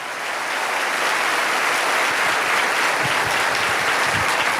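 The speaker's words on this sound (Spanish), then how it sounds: "Aplaude más que eso si lo crees, que se escuche en el mundo." Sustained applause from a large audience at a church preaching event, building quickly and holding as a dense, continuous roar of clapping.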